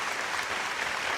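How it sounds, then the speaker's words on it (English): Broadband clapping from an audience at a science and engineering fair award ceremony, steady and dense throughout, with no voices over it. "give yourselves a round of applause watching from home"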